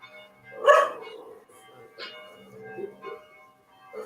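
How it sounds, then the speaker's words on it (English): A pet dog gives a loud, close bark burst, then a few quieter yips and whimpers follow in a sparse, uneven pattern against a low household background. "Now there's my dog barking because the phone rang."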